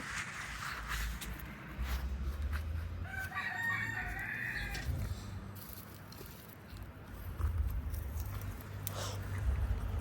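Chicken sounds with a rooster-like call in the middle, over steady low outdoor rumble and background noise.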